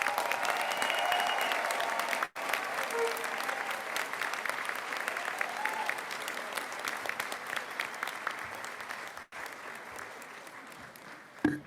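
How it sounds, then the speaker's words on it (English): A crowd at a 2022 commencement graduation ceremony breaks into sustained, dense applause for the graduating students. The clapping stays loud and steady throughout, with two brief drops. "Let's give our amazing students a round of applause."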